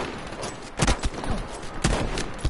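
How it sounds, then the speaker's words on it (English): Gunfire in the video game Firestorm, several bursts of close, sharp shots in quick succession over a few seconds. "Shooting at me, shooting at me."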